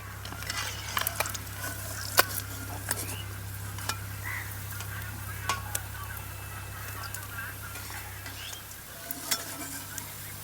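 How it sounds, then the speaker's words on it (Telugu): Kaki fish frying in hot oil, a steady close crackling sizzle with scattered sharp pops and spits throughout, no talking. "చేపలు బాగా నూనెలో ఫ్రై అయిపోయినాయి ఇప్పుడు తీసి పెడుతున్నా"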